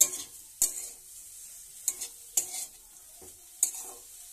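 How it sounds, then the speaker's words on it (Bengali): Korai greens stirred into a pan with a faint, low sizzle underneath, punctuated by about five sharp spoon-against-pan scrapes and clinks at irregular intervals, close up and without speech. "শাকগুলো দিয়ে আমি ভালো করে এর সাথে মেশাবো।"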